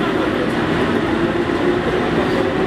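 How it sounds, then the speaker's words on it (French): Subway train at Apjong station on the Seoul metro, a steady, loud rumbling roar that fills the whole stretch without a break. "On arrive au métro, la station Apjong."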